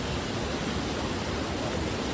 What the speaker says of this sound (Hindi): केव से पानी आ रहा है, पानी का डैम बना दिया है।